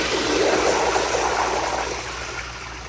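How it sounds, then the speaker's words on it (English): A 1970s American Standard Baby Devoro toilet flushes with a strong rushing swirl of water that gradually eases, steady and close. "So here is a flush."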